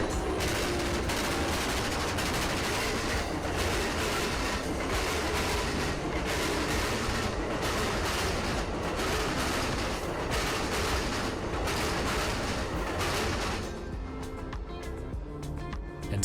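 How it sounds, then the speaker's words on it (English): Amtrak Silver Star passenger train with its locomotives running hard near Plant City: a loud, continuous rumbling roar with rattling clatter for most of the span, then a slight easing toward the end, no talk. "our locomotives charging hard towards Lakeland"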